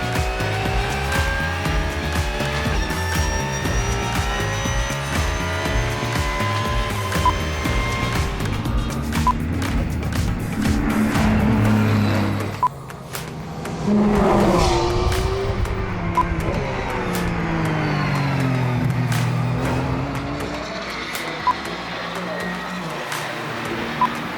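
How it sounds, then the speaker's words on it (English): A Hankook-tired race car laps a track, with a loud, steady engine roar that rises and falls through gear changes and brief tire squeals, while voices talk over a radio. "Steven, the plan is to run 8 laps."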